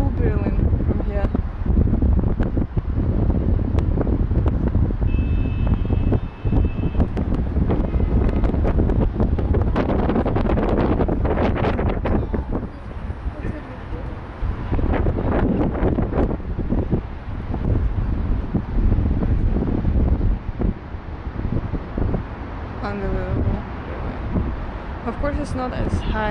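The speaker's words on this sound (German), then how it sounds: "It's a little bit windy here. It's really windy here." Strong wind buffets the microphone at a high viewpoint overlooking Berlin, a loud continuous roaring rumble with gusts throughout, while a voice talks over it.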